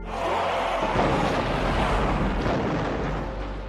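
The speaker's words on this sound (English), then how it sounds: "Explosion! With a touch of the red button, you can take down a zombie horde." One big explosion sound effect: a sudden heavy blast that swells into a long rumbling roar and fades gradually over a few seconds, loud and alone with no voices.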